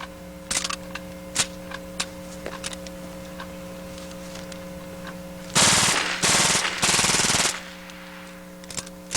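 An AR rifle fitted with a .22 conversion kit and a new magazine fires several full-auto bursts, loud and sharp, after a few scattered single clicks and handling noises.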